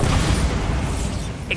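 A Bombarda explosion spell from Hogwarts Legacy, a dense, rumbling magical blast that fills the whole moment with a steady, roaring wash of noise and no clear pause.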